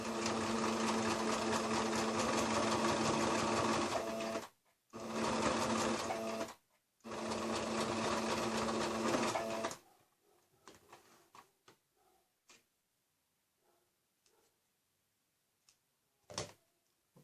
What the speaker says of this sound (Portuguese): E vamos passar uma costura em cima desse risco